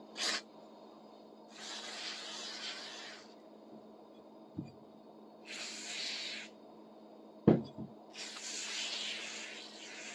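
WD-40 sprayed onto a wood plane during restoration: three distinct hissing bursts of spray, each lasting one to two seconds, close and clear, separated by quiet gaps with a couple of small knocks and clicks, no talk.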